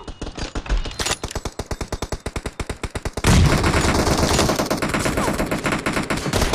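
A loud, rapid string of evenly spaced gunshots from a shooter video game with an M24 sniper rifle, followed by a denser, sustained roar of continuous fire.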